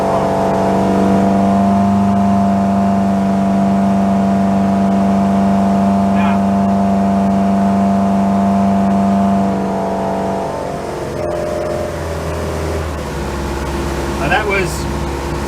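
Inboard engine of a 34ft Hartley timber boat running near full throttle: a loud, steady droning hum with strong tones that drops in pitch and eases off near the end, with a voice in the background.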